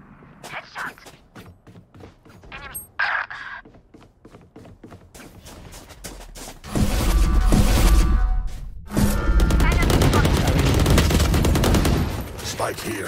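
Gunfire in the video game Valorant: sharp single shots and quick bursts early on, then loud sustained automatic fire with a short break, up close, over game footsteps and a brief voice line.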